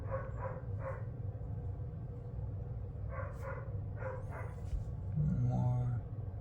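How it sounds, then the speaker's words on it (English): A puppy barks indoors, a few short muffled barks in clusters over a steady low hum, moderately faint and somewhat distant. "Oh, my dog's talking."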